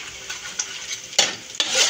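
Ginger sautéing in a hot pan for spicy squid adobo, a steady sizzle with a few louder stirring scrapes near the end, close and alone without talk.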